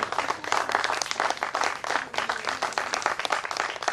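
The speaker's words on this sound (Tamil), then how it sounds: "கைத்தட்டுங்க" An audience at a children's sapling-planting event with special Olympic athletes breaks into a dense, steady round of applause, many hands clapping together at moderate loudness with no voices on top.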